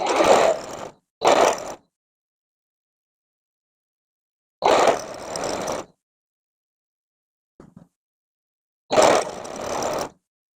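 Sewing machine stitching quilt pieces, heard in several short motor-driven bursts of rapid stitching, each stopping for a pause, up close and with no talk.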